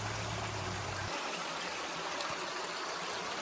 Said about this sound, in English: That little creek runs right here by the house.